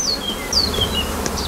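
Honey bees of the Carnica breed buzz at a queen-rearing apiary, with several individual bees whining past close by, their pitch sliding as they fly over a soft background hum, and no talk.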